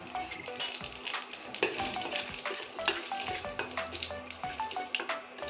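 Dried red chili and cumin seeds crackle and sizzle in hot oil for a tempering, with a spoon scraping and stirring the pan close by in quick, irregular strokes, and no talk.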